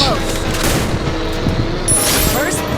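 Dense Free Fire battle-royale game gunfire, a continuous fusillade of rapid shots and booms filling the mix, with faint voice chatter underneath.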